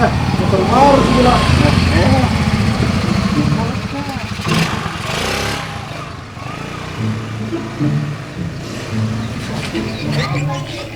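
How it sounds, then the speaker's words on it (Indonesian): A new motorcycle engine runs nearby, a steady loud drone that dips and rises slightly, with people talking over it throughout. "Motor baru gila."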